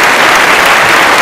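Loud, dense audience clapping on a parody song show, a continuous wash of applause from many hands filling the whole moment.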